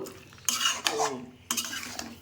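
Chicken pieces being stirred and browned in a cooking pot with spiced masala, a spoon scraping against the pot in several distinct strokes over a soft background sizzle.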